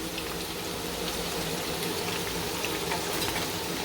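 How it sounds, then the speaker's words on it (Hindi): Cut onion frying in hot oil in a kadhai, a steady, even sizzle and bubbling at low, constant loudness with no break. "इसके अंदर मैं एक प्याज जो मैंने काट के रखा था मैं वो डालूँगी और इसे मैं फ्राई करके निकाल लूँगी"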